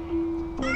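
A kitten in the video game Amanda the Adventurer gives a short, clear meow up close, a brief tonal cry that rises into a second higher note at the end.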